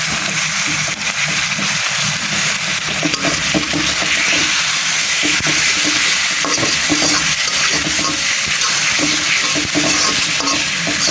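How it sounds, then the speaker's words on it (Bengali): Onion, garlic and ginger paste frying with spices in oil for beef tehari, a loud continuous sizzle with repeated stirring scrapes and clatter of a spoon against the pot, with no voices. "আমি এখন এই মশলাগুলারে ভালো করে একদম ভাজা ভাজা করে নিব।"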